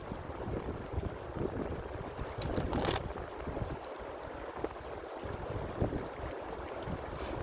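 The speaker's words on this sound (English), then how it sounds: "A little breezy right this second." Outdoor breeze buffets the microphone in a steady, moderately loud rumble of wind noise with gusty swells throughout, no talking.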